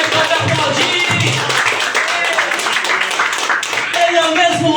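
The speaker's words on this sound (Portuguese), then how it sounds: "Pode aplaudir." A church congregation clapping during a service, dense applause running the whole time with a voice speaking loudly over it.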